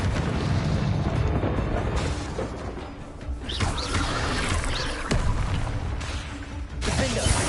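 Confringo explosion spells cast in Hogwarts Legacy, a series of rumbling booms and crashes over a dense, continuous game soundscape, with several bursts spread across the stretch.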